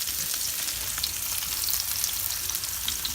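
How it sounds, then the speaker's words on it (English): Pork and garlic sizzle in a paella pan on a Kamado Joe grill, a steady, close hiss of frying with scattered pops and crackles and faint stirring, no voices. "Got a bit of pork in there too, browning up."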